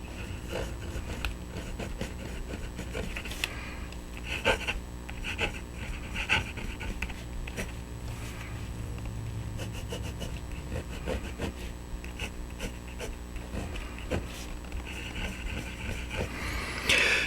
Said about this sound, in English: you can hear it on the paper, but I'm writing over a wooden desk that amplifies the sound